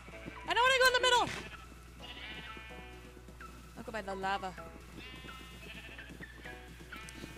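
Sheep bleating in the video game Minecraft, two loud wavering bleats separated by a few seconds, with a short spoken phrase and quieter game sounds between them.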